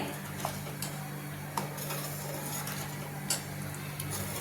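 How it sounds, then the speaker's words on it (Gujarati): A spoon stirs sugar into milk in a pot while making falooda, giving soft scraping with a few sharp clinks against the metal over a low steady hum from the stove, quiet and close with no voice. "આપણે બરાબર હલાવીને ખાંડ ઉગાવી લેવાની છે"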